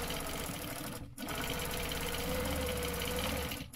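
A sewing machine stitches a stencil design, running in a fast, steady rhythmic chatter close by, with a brief pause partway through before it picks up again.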